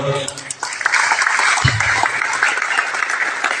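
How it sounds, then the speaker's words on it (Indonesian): An audience at an international seminar applauds a speaker, a dense, steady wash of clapping that swells in and holds to the end. "Tepuk tangan buat beliau."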